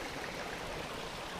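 A creek on a downhill mountain bike trail rushes steadily beneath a bike held above the water, making a constant, even, mid-level babble with no voices.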